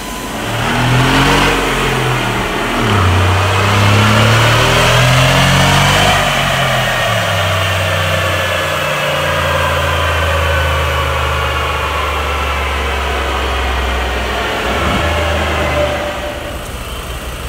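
A Mercedes G Wagon engine fitted with a new exhaust system, revving up and down in long sweeps of rising and falling growl over a steady idle, close and loud throughout.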